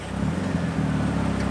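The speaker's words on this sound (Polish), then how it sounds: "Typowa parada japońskich samochodów." Steady low rumble of Japanese cars rolling past in a slow parade line at a Japanese car event, a continuous engine and road drone without any distinct horns or voices.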